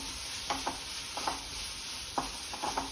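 A spice paste of coriander, cumin powder, coconut, ginger and green chili fries in a pan with a soft, steady sizzle. A few light scrapes of a spoon stirring are heard, and no one speaks.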